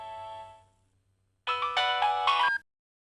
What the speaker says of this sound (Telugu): ఫోన్ వస్తుందండి.